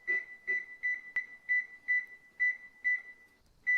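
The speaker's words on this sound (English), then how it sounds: "on the control panel we press the timer button, and on pressing the timer button, then we set the required time" An electric oven's control panel beeps while its timer is being set, a quick series of about ten short, clear electronic beeps at an uneven rhythm, close and alone.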